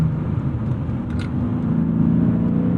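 A 1997 BMW E36 M3 sedan with a manual swap drones steadily at high revs, a constant close engine hum with road rumble and no spoken voices.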